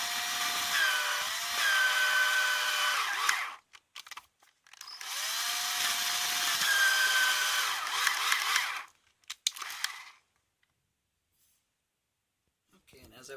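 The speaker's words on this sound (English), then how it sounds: "what I'm doing now is I'm just going to go very gently on it with high-speed drill" A high-speed drill grinds through a metal snap on a pair of pants in two sustained bursts, each several seconds long with a whining pitch that shifts as it bites, then short taps and silence; a voice can be heard around the drilling.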